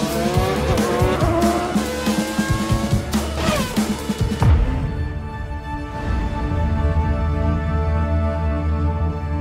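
A McLaren F1 race car drives hard with loud, close engine roar and tire squeal, the high revving note dropping away midway to a steadier, quieter hum.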